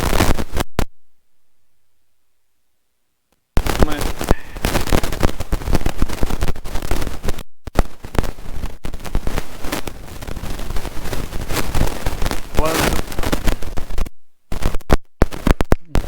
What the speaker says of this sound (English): So now I gotta fire up the welder